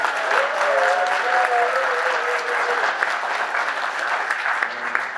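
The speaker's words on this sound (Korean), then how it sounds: "중앙당에서 열심히 일을 했던 당직자분들에게 감사의 박수를 드렸으면 좋겠습니다" A crowd at a political party's founding convention applauds in a sustained, dense wash of clapping, with a faint tonal sound early on and the applause thinning slightly toward the end.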